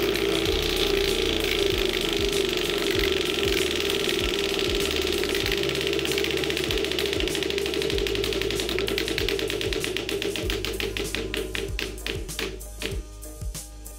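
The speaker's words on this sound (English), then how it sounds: "Everybody knows once I spin this wheel, there's no turning back." A prize wheel spun on a county most-wanted segment clicks rapidly past its pegs, the ticks spreading out as the wheel slows over about fourteen seconds, with a steady hum underneath.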